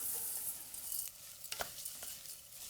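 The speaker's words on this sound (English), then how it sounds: "just tip in, this is 225 grams of rice basmati" Basmati rice tipped into a pan of softened onion and spices, giving a steady soft sizzle with a few short scraping stirs and light rattles, close and alone without talk.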